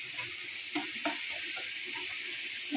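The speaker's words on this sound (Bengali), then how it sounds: "এর পাশে শাক চিংড়ি ভাজিটা প্রায় হয়ে আসছে।" Shrimp and leafy greens stir-fry in a pan with a constant hiss of sizzling oil, broken by a few soft clacks and scrapes of stirring, close and steady with no talking.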